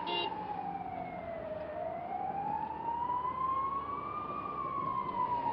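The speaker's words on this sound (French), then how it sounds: "La ville grouille d'ambulances." An ambulance siren wails through the streets of Baghdad, one steady, loud tone sliding slowly down and back up, close and continuous with no talk over it.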